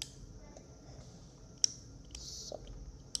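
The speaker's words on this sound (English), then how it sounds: "Turns out I was just clicking it the wrong way." Small plastic Lego pieces snap together during a snowmobile build, a few faint, sharp clicks scattered across quiet room tone.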